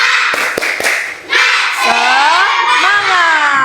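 Indonesian classroom children doing a clapping cheer (tepuk semangat): a few quick, loud claps, then the class breaks into an energetic group shout close by.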